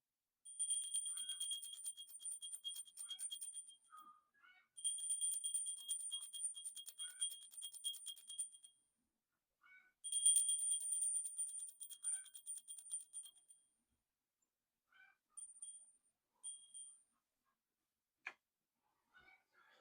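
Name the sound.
small pewter bell ringing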